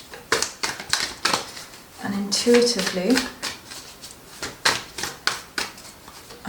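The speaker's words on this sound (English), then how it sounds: "So I'm just going to give the cards a good shuffle," Oracle cards are shuffled by hand in a series of crisp, rapid riffles and taps, a quick irregular rhythm of dry clicks, with someone speaking briefly partway through.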